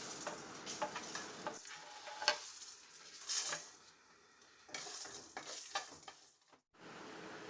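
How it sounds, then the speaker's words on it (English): Whole garam masala spices dry roasting in a pan, with a low scratchy sizzle broken by stirring scrapes and a few light ticks and clinks of the utensil against the metal, pausing briefly partway through. "Now let us first roast all these whole garam masalas and powder them"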